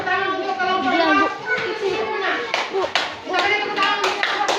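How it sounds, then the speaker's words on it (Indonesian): Children in a classroom clap together in a burst of applause for a group, a rapid mix of hand claps layered with lively kids' voices and chatter. "kita beri tepuk tangan untuk kelompok 2"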